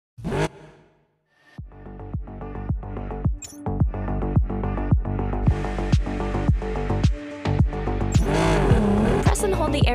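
Race car engine in the video game Ace Racer, revving and shifting through rapid rising gear pulls with tire squeal during cornering and drifting, loud and continuous after a short opening burst and brief pause.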